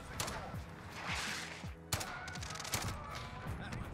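Dragunov sniper rifle fire echoes through a Modern Warfare match as several sharp shots ring out over game sounds and faint background noise, while a player talks quietly.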